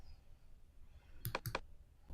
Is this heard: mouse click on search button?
yes